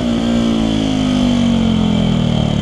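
A 125cc motorcycle engine fitted with a LeoVince LV One exhaust holds a loud, close, sustained note whose pitch slides slowly downward, with no talk over it.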